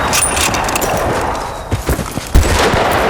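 Rapid bursts of gunfire from the Battlefield Bad Company 2 video game crackle as a close, loud fusillade with a few sharper individual shots, under a constant background din.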